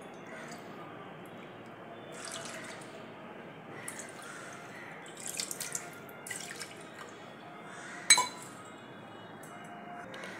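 Water pours into a pressure cooker holding toor dal for plain dal, a soft steady wash with a few light metallic clinks and one sharper clink near the end, close and fairly quiet with no talking.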